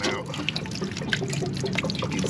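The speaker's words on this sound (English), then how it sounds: "there's the residual water from the water tank coming out" Residual water from an RV water tank drains out of the opened drain plug in cold weather, a close, steady splashing trickle that runs continuously for the whole stretch.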